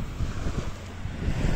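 Mid-November sea waves wash on the shore in Spain, a continuous broadband surge with low rolling swells and wind buffeting the microphone, close and fairly loud with no talk.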